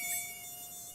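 A single mosquito whines in a thin, steady, high-pitched tone, close and constant for a moment, with a faint airy hiss underneath and no other sounds.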